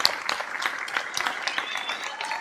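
Concert audience applauding after a song, steady dense clapping throughout, moderately loud and close.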